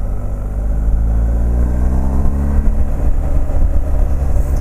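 A BMW 1250 GS motorcycle engine revs steadily and loudly close by, a continuous throaty drone with rising and falling pitch across the whole stretch and no voices over it.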